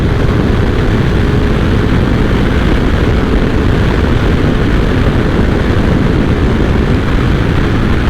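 A CFMoto 450SR motorcycle roars continuously at high speed, around 180, with its loud engine blended into heavy rushing wind noise and no break or talk.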